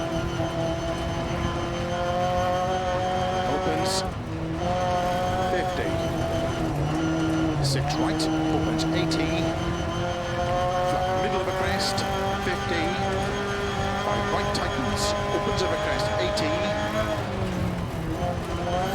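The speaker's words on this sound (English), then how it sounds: "You can hear how knackered the car is already." A rough, droning, worn-out rally car engine in a racing video game revs and strains continuously, rising and falling with gear changes, while a voice talks over it throughout.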